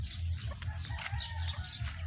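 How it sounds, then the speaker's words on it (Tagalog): Chickens cluck and peck while being fed near a house, with short rhythmic calls over a steady low background hum, fairly close and continuous throughout. "Nakipakain yung manok."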